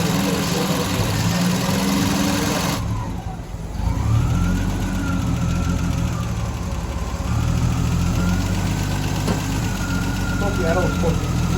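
A 1974 Triumph TR6 engine with a backfiring problem idles steadily at about 1,000 RPM, a continuous mid-pitched running note that stays fairly loud and even through most of the stretch, with a brief dip near the start.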